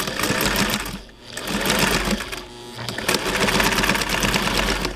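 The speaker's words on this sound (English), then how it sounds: "we're going to find out in a second if the Spartan will go through all that roving" A 1959 Singer Spartan 192K sewing machine stitches through roving with a loud, close mechanical whir that runs steadily, briefly dipping twice before picking back up.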